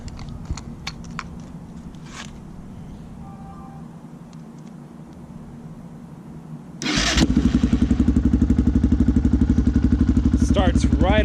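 A Yamaha Raptor 660 ATV with a freshly replaced spark plug sits quiet amid faint rustling, then its engine catches abruptly and runs loud and steady, with a rising rev near the end.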